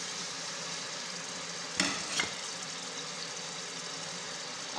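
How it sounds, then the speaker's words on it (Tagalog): Onions frying in oil in a pan, stirred with a spatula: a steady broadband sizzle runs throughout, with two brief louder scrapes of stirring near the middle. "Kayo-kayin natin guys hanggang sa mag-brown yung sibuyas"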